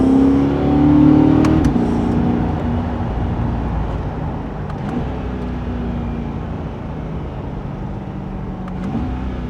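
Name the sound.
2023 Chevrolet Corvette C8 engine revving and downshifting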